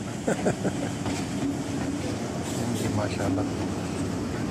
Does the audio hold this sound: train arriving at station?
yes